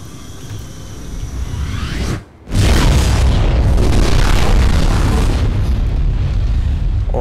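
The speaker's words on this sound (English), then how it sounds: "it triggers the explosion that happens in that room to occur quicker." A loud, sustained roaring explosion in the video game Mirror's Edge, set off in a room by a valve, opens with a rumble, briefly drops out, then bursts back as a dense, booming blast that fills the rest.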